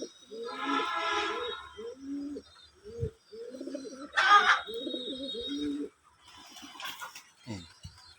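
Pakistani Giribaz pigeons coo in low, soft, repeated phrases close by, with brief chirps and wing-like flutters mixed in and a voice talking now and then.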